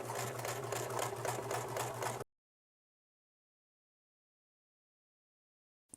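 A sewing machine stitches a quilt with white sashing, a fast, even mechanical whir for about two seconds, close and steady, then stopping abruptly into silence.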